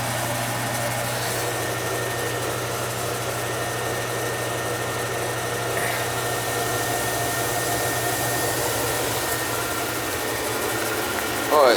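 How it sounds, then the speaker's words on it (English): A gas boiler's power venter fan runs with a steady, loud hum and airy whoosh that holds constant throughout, with a low drone beneath and a faint voice briefly over it. "there goes the power venter"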